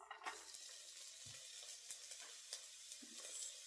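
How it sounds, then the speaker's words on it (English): Onions go into a pot of hot oil and sizzle faintly and steadily, with a few light clinks and stirring taps close by and no talking. "we're just going to add some onions"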